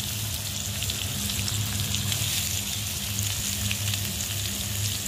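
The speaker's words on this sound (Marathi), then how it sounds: "कांदा आणि टोमॅटो परतून घेऊ" Onion and tomato sauté in oil with a little asafoetida in a kadhai, a loud, even, unbroken sizzle close up, with no talking over it.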